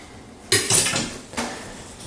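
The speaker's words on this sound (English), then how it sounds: "I'm just mashing these potatoes just a bit to get them started" Potatoes being mashed in a pot to start a puree for gravy, heard as two separate clattering bursts of utensil against metal with a quiet pause between them.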